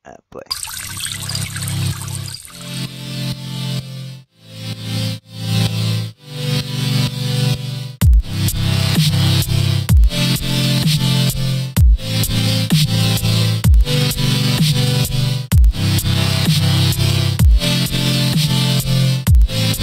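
Future bass music track with layered synth chords and a heavy low end, opening with sparse stabs and swells before settling into a loud, steady beat with regular punchy kicks.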